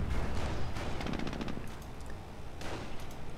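Machine gun fire in a World War II strategy video game, rapid bursts of rattling shots, one burst around the middle and another short burst near the end, over a rumbling battlefield background.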